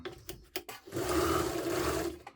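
An old Veritas sewing machine runs on its own, needle moving, a few brief clicks and taps before a steady whirring hum with a rhythmic mechanical chatter.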